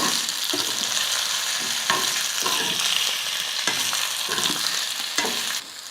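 Raw banana pieces fry in oil in a pan, giving a continuous close sizzle broken by rhythmic scrapes and clatters of stirring. No one speaks.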